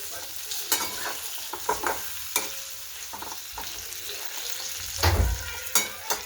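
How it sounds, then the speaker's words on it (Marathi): Brinjal (eggplant) is stirred and sautéed in masala for a Maharashtrian vangyachi bhaji, with a low sizzle broken by repeated close scraping and clattering spoon strokes on the pan. "वांगी परतते आता मसाल्यात."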